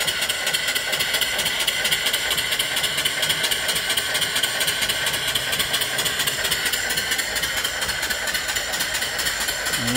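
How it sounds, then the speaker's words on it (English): A live steam mill engine with a 3-inch bore and 4-inch stroke runs slowly, about 100 RPM, driving an alternator with a steady, close, loud mechanical clatter and hiss that continues unbroken throughout. "The engine has a 3-inch bore, 4-inch stroke."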